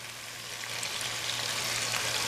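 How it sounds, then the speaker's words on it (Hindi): Cream and yogurt mixture being poured into a mutton karahi over a low flame, a steady soft sizzle and hiss that builds slightly as the mixture settles in the pan. "अब मैं क्रीम और दही को मिक्स किया वो डाल दूँगा"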